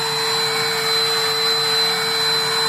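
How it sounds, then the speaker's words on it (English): A Hommak HM611 cordless handheld vacuum cleaner runs with a steady, loud, close whine and whoosh of airflow, unbroken and without speech. "You can move to anywhere you want it to move, so it's very easy to navigate"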